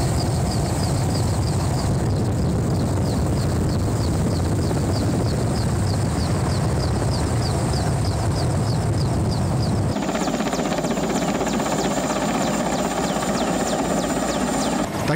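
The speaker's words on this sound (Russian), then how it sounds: "Вертолет набирает высоту." A rescue helicopter gains altitude over the Aldan River while evacuating hunters, its rotor and engine roaring loud and steady throughout, with a shift in tone partway through as it climbs away.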